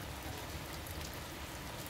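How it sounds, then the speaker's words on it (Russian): Heavy rain falls in Kazan, a dense even hiss of drops on surfaces, faint and continuous with no voices. "А это, оказывается, шум дождя."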